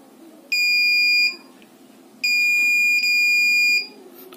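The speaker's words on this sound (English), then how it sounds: "It will give the error by long beeps." An RFID wireless electronic door lock rejects an unauthorized key fob with loud, long electronic beeps: one beep of about a second, a pause, then two more joined in succession, alone with no talk.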